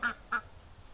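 Two short nasal quacks from a duck, close and clear, spaced about a third of a second apart over a quiet background.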